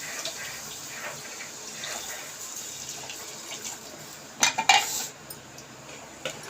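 Metal utensil clinking against a pot of white chickpea gravy amid a low wash of background noise, with a short cluster of sharper scraping clanks near the end.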